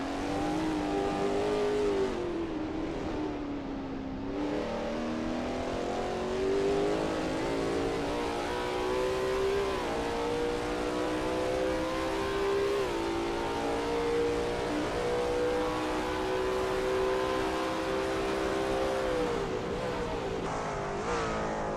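A Lola T70 MkII Spyder race car lapping Sebring in a racing game, its engine a loud steady drone with rising and falling pitch through gear changes, heard close and unbroken throughout.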